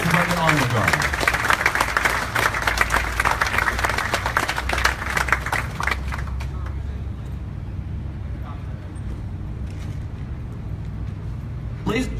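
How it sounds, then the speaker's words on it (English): Audience clapping at an outdoor flag raising ceremony honoring a Royal Hawaiian Band, Air National Guard and fire department honor guard, loud at first and thinning out, with a voice and traffic-like rumble underneath. "Ladies and gentlemen, a round of applause for your Royal Hawaiian Band, Hawaii Air National Guard,"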